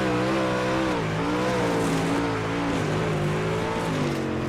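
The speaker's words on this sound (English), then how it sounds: "You can definitely hear the car" A race car engine in a sim racing video game holds a loud, steady drone throughout, its pitch rising and dipping slightly as the throttle shifts, with faint tire noise underneath.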